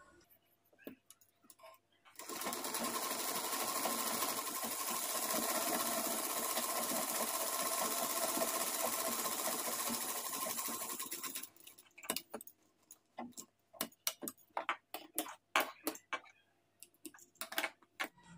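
Sewing machine stitching along the edge of blouse fabric, a steady continuous whirring run of about nine seconds, followed by scattered clicks and handling noises, close to the mic.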